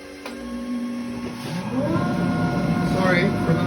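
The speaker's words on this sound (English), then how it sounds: "And I turn on my dust collector." A workshop dust collector spins up with a rising whine and then settles into a loud, steady roar.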